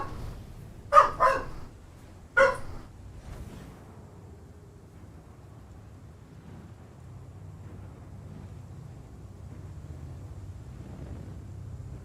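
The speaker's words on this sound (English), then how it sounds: "Far off in the distance, a dog barks." A dog heard from afar in Star Citizen barks angrily, three sharp barks close together early on, then only a low rumbling background remains for the rest of the stretch.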